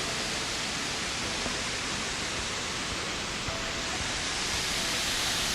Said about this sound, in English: And now, nearly in front of the waterfall, and because of the water we have here a nice cool breeze.